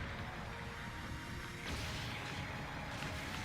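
Heavy weapon fire from the Acguy Firepower Type A mobile suit in Gundam Battle Operation 2, a dense, continuous low rumble of blasts with a sharper burst partway through, loud and steady with no talk over it.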